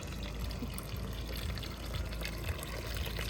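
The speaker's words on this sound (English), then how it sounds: "Then you see the water now, the sound of the water." Water splashes and trickles steadily from a small solar-powered backyard fountain made rustic with gravel, a constant close, soft flow with no talking.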